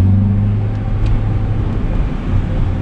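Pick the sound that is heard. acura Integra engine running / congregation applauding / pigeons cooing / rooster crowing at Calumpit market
acura Integra engine running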